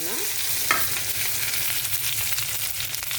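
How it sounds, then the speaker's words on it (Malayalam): Onion, green chilli and curry leaves sizzle in a pan as a spoon stirs them, a steady close frying hiss broken by scraping strokes, with no talking. "ഇതെല്ലാം ഇട്ട് നന്നായിട്ട് ഇളക്കി യോജിപ്പിച്ച് ഒന്ന് പച്ചമണം മാറുന്നിടം വരെ ഒന്ന് ഇളക്കി യോജിപ്പിക്കുക"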